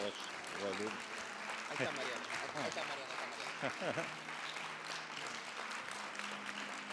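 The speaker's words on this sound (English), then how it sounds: "a big applause" Crowd applause fills the room, a steady wash of clapping with voices chattering and calling out over it.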